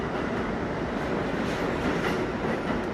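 An R46 wide-bodied subway train runs steadily in a train video game, giving a continuous loud rumble with faint rhythmic wheel clatter and no talk.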